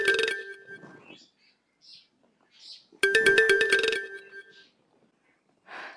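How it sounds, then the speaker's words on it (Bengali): A mobile phone ringtone plays in two bright, melodic bursts separated by a quiet gap, with brief voice sounds in the pauses. "খালা, টিয়া ফোন করেছে, কথা কবে?"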